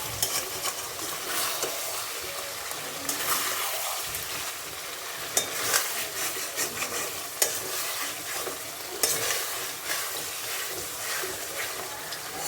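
Spiced potato curry for a vegetarian aloo dum sizzles and fries in a pan while a spoon stirs and scrapes through it in repeated strokes, close and continuous, with brief louder clacks against the pan.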